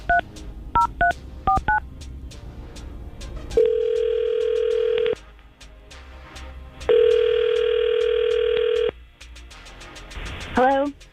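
A telephone call is placed: a quick series of touch-tone dial beeps, then two long, loud ringback tones separated by a pause, ending with a short rising electronic chirp as the line connects.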